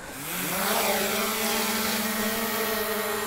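A DJI Mavic Air 2 drone lifts off and flies close by, its propellers giving a loud, steady whine that climbs in pitch as it takes off, then holds an even buzzing drone with no voices.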